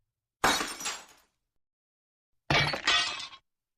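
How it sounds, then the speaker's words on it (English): Plates crash and shatter on a floor in two separate loud breaking bursts, each with scattering shards, with a couple of seconds of silence between them and no voices. "Every few minutes a plate crashed to the floor."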